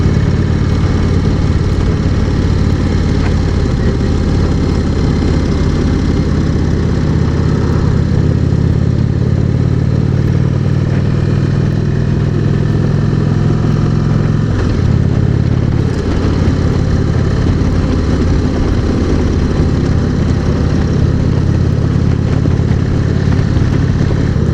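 Indian Springfield motorcycle engine and exhaust pipes at speed, a loud, continuous deep rumble with wind noise, the throttle held steady with slight swells, close and with no voices.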